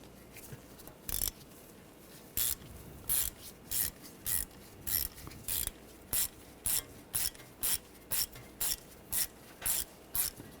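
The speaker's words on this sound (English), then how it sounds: "Using a T25 socket, I'm going to take that screw out." Repeated ratcheting bursts from a ratchet with a T25 socket backing out a screw on a 2013-2019 Ford Escape during front wheel bearing and hub work, about fifteen short clicking strokes in a steady rhythm, close and clear with no talk.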